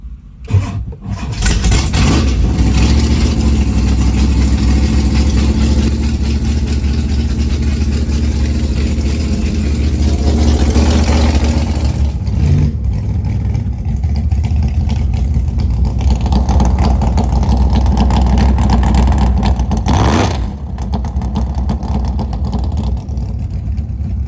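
A lowered car with its exhaust fitted at the Summernats car festival starts up and revs hard, a loud, close, deep engine roar holding for long stretches, dipping briefly and surging again.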